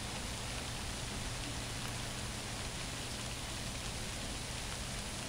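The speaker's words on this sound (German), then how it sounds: "Und es regnet." Steady rain falls in the Prison Architect prison-management game, an even, dense hiss of drops that holds unchanged from start to finish with no other sounds.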